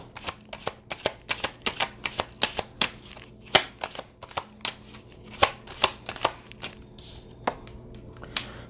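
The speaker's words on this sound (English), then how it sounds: "But let's pull some cards on it, right?" Tarot cards being shuffled by hand, a quick run of crisp riffling snaps and slaps in an uneven rhythm, close and clear, with no voices.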